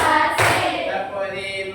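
Hands clap in a few firm, close claps that fade into a soft ringing room tail, with no voices over them.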